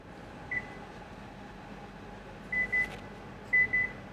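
A Hyundai Staria power tailgate closing, marked by a series of short electronic warning beeps, one early and then two pairs spaced apart, over a low steady hum with no talking.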